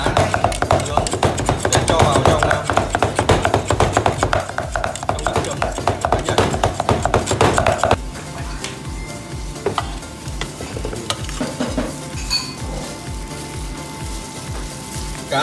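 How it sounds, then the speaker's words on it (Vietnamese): Minced fish stirred and mixed with dipping sauce in a bowl, giving dense wet rapid clatter and squelching for about eight seconds, then softer, slower mixing taps, with someone speaking Vietnamese throughout. "Cá sau khi băm nhỏ đã cho vào trộn với nước chấm của cá nhảy."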